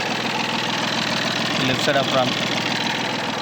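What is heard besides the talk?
Tata Tiago XT diesel car engine idling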